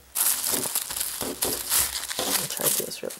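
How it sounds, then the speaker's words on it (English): Tissue paper on a Christmas gift crinkles and rustles loudly and continuously close up while being unwrapped, with no one speaking. "Sorry about the crinkling, guys."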